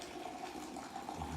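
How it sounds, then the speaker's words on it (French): Hot water streams into a teapot while Moroccan tea is prepared in a traditional Berber house in the Atlas mountains, a soft, steady gurgling pour heard briefly and up close. "Après, elle met de l'eau chaude."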